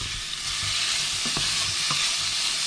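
Kasseler smoked pork frying in hot oil for East German soljanka, a dense, even sizzle close up, with a couple of low thuds and scrapes partway through.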